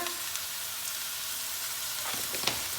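Cumin seeds sizzling in hot oil in a pan with onions: a soft, steady hiss with a few light stirring clicks toward the end.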